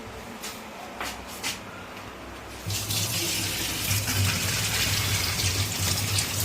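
Boiled pasta poured into a strainer in a home kitchen, hot water gushing and splashing out steadily and loudly after a few quieter clinks and rustles, the drain continuing without pause.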